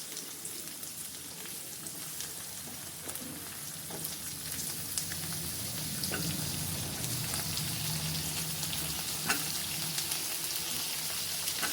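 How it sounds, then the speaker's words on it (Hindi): Chopped onion and vegetables frying in a hot tempering for rava idli, a steady close sizzle and crackle that runs unbroken and grows slightly louder partway through, with no talking. "अब हम इसमें सब्जियों को डाल करके भून लेते हैं।"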